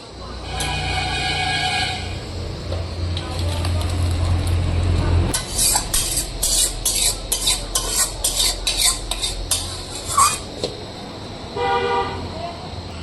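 A spoon stirs thin sour dal gravy in a pot, cooked with karamcha and garam masala powder, giving a run of rhythmic metallic scrapes and clinks after a low humming stretch, with faint talk at the start.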